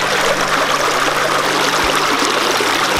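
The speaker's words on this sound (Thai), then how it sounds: "ตอนนี้เสียงน้ำคงจะดังนิดนึงนะครับ" Steady rushing and trickling of a forest stream, continuous and fairly loud, with no voices.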